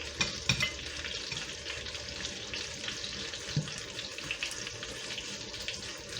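Pork steaks fry in a pan with a steady, close sizzle and crackle. Occasional sharper clinks and scrapes come through as the meat is moved.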